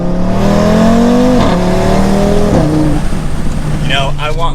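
An Audi RS3 with a full aftermarket exhaust revs hard and loud, the engine pitch climbing and dropping through several pulls, with a brief tire squeal near the end.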